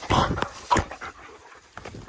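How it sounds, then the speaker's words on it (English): Two dogs play together outdoors on a farm, giving a few short sharp barks and yips in quick bursts, fairly close, with quieter panting and rustling between them. "this is Fred's dog playing with Nala"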